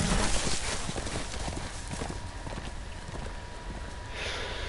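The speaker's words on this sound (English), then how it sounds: "Ay, maldito caballo." Horse hooves clip-clop steadily through a video game scene, close and fairly loud over a continuous background bed, with the rhythm easing toward the end.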